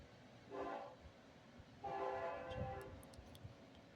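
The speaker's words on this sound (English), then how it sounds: "I did hear a train." Heard from a parking lot, a distant train sounds its horn in two drawn-out blasts over low rumbling background noise, with faint ticking in the last second.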